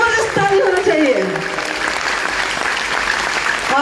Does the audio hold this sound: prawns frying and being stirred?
no